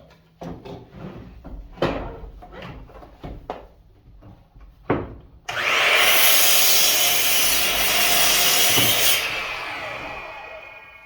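Several sharp wooden knocks and taps, then a loud, steady saw cutting a board to length for a floating shelf for a few seconds before trailing off.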